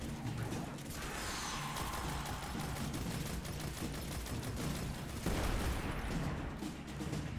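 Pulse rifle fire in the video game Destiny 2, heard as dense, continuous gunfire that stays loud and steady throughout, with bursts overlapping into a sustained barrage and no speech.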